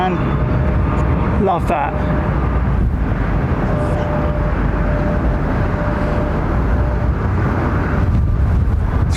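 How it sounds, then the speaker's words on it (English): Airliner jet engines spool down at London Heathrow: a loud, steady broadband roar with a faint whine through the clip, and a person speaks briefly near the start. "Nice spool down, man."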